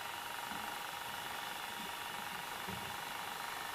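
A Fisher FVH-907 VCR running in play mode gives a faint, steady mechanical hum with soft, irregular low thumps, heard alone and close.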